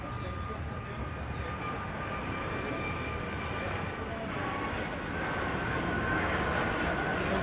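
Airplanes flying over the Linwood neighborhood in Southern California, a steady broadband engine rumble that swells slightly toward the end, with a person talking.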